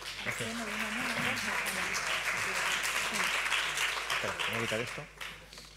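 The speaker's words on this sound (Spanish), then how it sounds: "Un aplauso para Pedro." Applause from an audience fills the room, steady and dense, while a voice speaks over it near the end.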